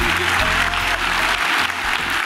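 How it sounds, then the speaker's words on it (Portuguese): A church congregation applauding during a service, a dense, steady wash of clapping from many people that carries on throughout, with a low organ or keyboard tone sustained underneath. "Vamos aplaudir a Jesus,"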